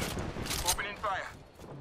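Rapid video-game gunfire crackles in dense, loud bursts, several shots tumbling together in quick succession with a brief gap before another volley, all close and sharp.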